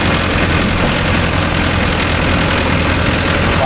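A Mahindra Arjun Novo 605 DI tractor engine runs steadily at close range, a loud, continuous low diesel rumble with no breaks and no voices over it.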